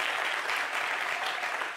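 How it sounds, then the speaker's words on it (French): Audience on an Ivorian rap show applauding a talented female rapper, a short, even burst of crowd clapping that fills the moment without pause. "Je veux qu'on applaudisse un peu."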